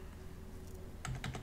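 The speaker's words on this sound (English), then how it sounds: "Hopefully I type it right." Disk encryption password typed on a computer keyboard, a quiet run of a few light key clicks bunched near the end.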